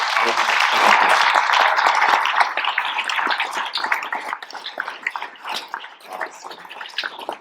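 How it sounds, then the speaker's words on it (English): Round of applause from guests at a banquet, strong at first and then thinning into scattered, uneven clapping over several seconds, fairly close. "Let's say a big thank you again by giving them another round of applause."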